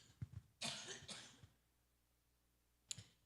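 An older person coughs indoors: a short double cough, then a longer harsh fit, and one last cough after a pause. All are quiet, with near silence between them.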